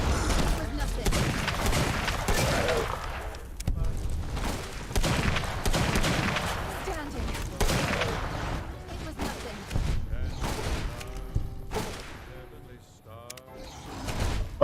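Repeated gunshots and bursts of fire in Fallout: New Vegas, a chaotic fight with shots clustered in irregular volleys and booming impacts, while a voice talks excitedly over the action.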